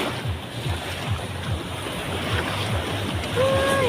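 Steady broadband roar of rough sea water at Dagupan with repeated low surges, wind rumbling over the microphone, and a faint tonal whine near the end.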